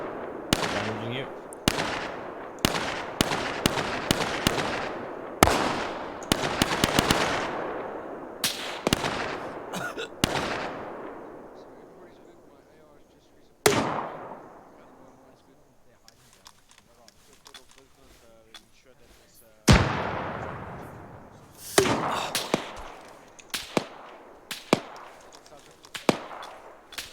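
Loud, close gunfire in Arma 3, heavy automatic bursts and single shots echoing out, with pauses between volleys; voices talk over the firing.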